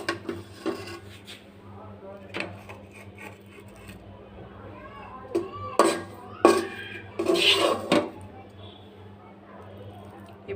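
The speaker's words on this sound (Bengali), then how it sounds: "কড়াই গরম থাকতে ভর্তাটা" A spoon scrapes mashed sweet potato and greens bhorta out of a hot wok in rough metal-on-metal strokes, with sharp bursts of scraping and knocks between quieter pauses, close up.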